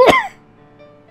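A dwarf in a spoken fantasy story gives a single sharp, close cough at the start, followed by quiet.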